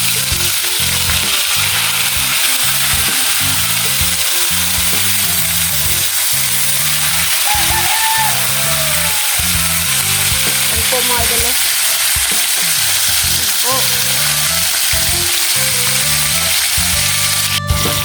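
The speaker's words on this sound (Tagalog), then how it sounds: "Ilalagay na po ni mama doon sa ano po, kawali yung mga isda." Fish sizzles and crackles loudly in hot oil, a continuous frying hiss with rhythmic low pops and bubbling throughout.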